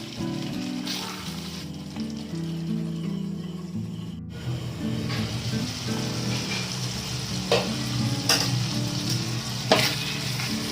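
Pointed gourd curry with garam masala sizzles steadily in a pan while being stirred, spoon scrapes and clinks over a continuous close frying hiss, with no talking.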